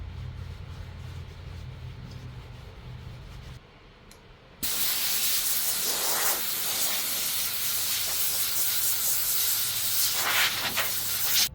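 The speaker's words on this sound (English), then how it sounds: "Take some isopropyl alcohol, spray it on a rag, and you can wipe it off." Rag wiped with isopropyl alcohol across the top of an engraved store-bought cutting board, a steady broadband rubbing hiss that starts after a short pause and runs loud and continuous to the end.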